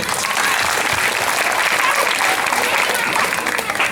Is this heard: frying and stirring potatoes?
no